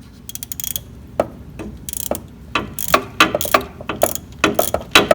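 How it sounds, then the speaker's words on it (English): Ratchet clicking in short repeated bursts while tightening the top starter bolt on a 2005 Toyota Tacoma, close and crisp, with brief pauses between strokes. "Now I'm tightening the top bolt."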